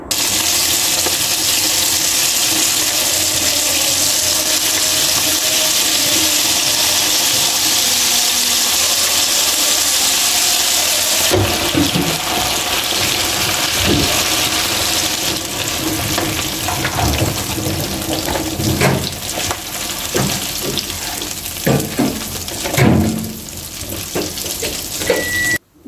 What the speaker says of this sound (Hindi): आप एक एक मटन की बोटी को उठाकर आप ऑयल में डालते जाएं, जिस तरह हम पकौड़े फ्राई करते हैं ना, सेम इसी तरह इसे फ्राई कर लीजिएगा।